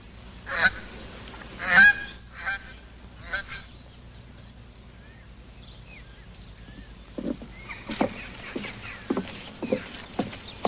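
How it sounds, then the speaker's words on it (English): Geese honk loudly nearby in a few sharp bursts, then call again in a scattered series of honks and quacks over a quiet background. "Quack, quack."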